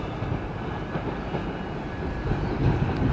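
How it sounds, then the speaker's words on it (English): Train at Edinburgh Waverley station, a steady low rumble of rolling rail cars heard from a distance with faint clatter, continuous and unbroken. "Waverley train station there."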